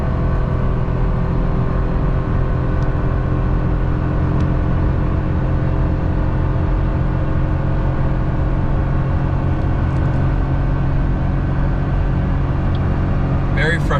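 A 2023 Ford F250 with a 7.3L gas V8 tows up a 6% grade in third gear at about 4,700 RPM, producing a steady, loud, droning engine roar that holds constant throughout, heard from inside the cab.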